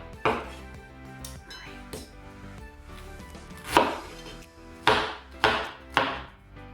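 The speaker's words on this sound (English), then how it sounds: "So we're going to cut all of our fruit" A knife chopping fruit for fruit cocktail on a board, with irregular sharp chops spaced out, some sharper and louder strikes near the end, and faint clatter between cuts.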